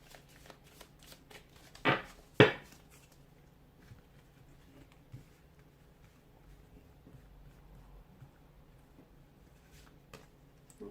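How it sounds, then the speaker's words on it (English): Tarot cards in a gentle shuffle close by, with light riffling flutters, two sharper taps of the deck, then quiet intermittent card sounds. "give the cards a soft shuffle"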